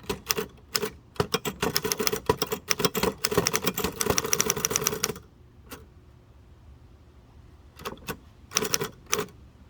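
A 1933 Underwood four-bank portable typewriter being typed on outdoors: rapid irregular clacking keystrokes for about five seconds, a pause, then a few isolated strikes and a short final burst, close and crisp.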